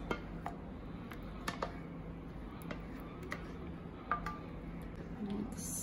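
Macaroni and cheese stirred in a pot with a utensil, heard as light, scattered clinks and taps of metal against the pot over a quiet kitchen background.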